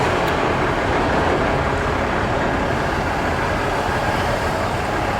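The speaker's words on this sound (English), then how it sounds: "I'm in between a couple highways and a whole host of loud trucks." Loud trucks roll along nearby highways, making a steady, dense roar of traffic that never lets up, with no voices over it.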